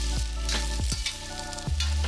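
Winter melon being stir-fried in hot pork fat in a wok, with a steady close sizzle and a few sharp scraping strokes of the spatula tossing the pieces.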